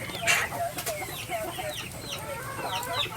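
Chickens clucking close by in a farmyard, several birds calling over one another in short overlapping clucks and chirps against a low steady background.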